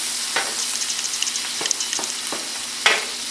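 Meat fries on a flat-top griddle with a steady close sizzle, and sharper pops and spatters break through every second or so. No one speaks.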